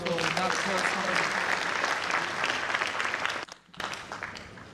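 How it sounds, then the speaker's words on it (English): Sustained applause from an audience at a military passing-out ceremony honouring the Director of Training, loud and dense throughout before briefly cutting out near the end, with some voices mixed in. "Shall we give the Director of Training another round of applause for that first?"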